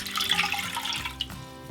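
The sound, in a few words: water poured into a pot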